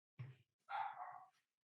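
A dog barks twice up close indoors, a short sharp bark followed by a longer drawn-out one, fairly quiet and alone.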